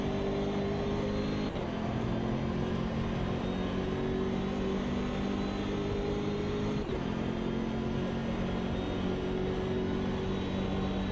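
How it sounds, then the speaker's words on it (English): A BMW race car in the racing game Automobilista 2 drives on cold tyres, its engine droning loud and steady throughout, with pitch shifts at gear changes and no voices over it. "this BMW is not driving too bad on cold tyres"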